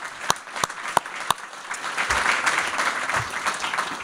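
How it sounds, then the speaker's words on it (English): An audience at a biotech evening event applauds its panel members, starting with a few sharp separate claps that swell into steady, full crowd clapping. "let's give a round of applause to our panel members again"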